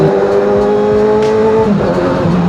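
A Kawasaki Z900 RS motorcycle's engine revs loud and close, with a smooth steady drone that shifts pitch partway through.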